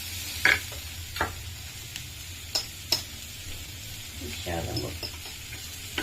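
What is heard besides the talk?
broccoli being stirred and sautéed in pan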